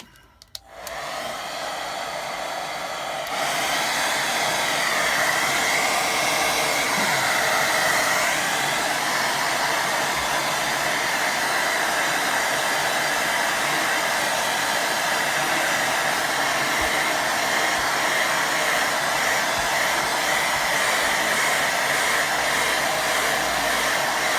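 A hair dryer switches on close by and blows a loud, steady whooshing roar without pause while a watercolour painting dries, with no talking.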